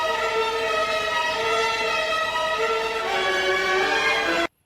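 Orchestral film score cue from Rambo: First Blood (1982), the Hanging Over the Cliff passage, with sustained eerie strings and tones holding steadily at moderate loudness before cutting off abruptly, no talking.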